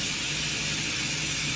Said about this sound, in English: This puts out a ton of steam when you off gas it.